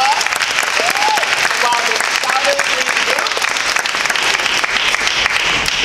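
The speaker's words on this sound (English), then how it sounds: "Give them another big round of applause" A Juneteenth audience applauds steadily after soul-stirring praise dances, dense clapping holding loud and even for several seconds with voices calling out within it.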